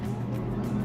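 VinFast VF 8 electric SUV launching hard from a standstill, a steady close whir and road roar with faint tire noise, continuous and fairly loud for under a second, no talk over it.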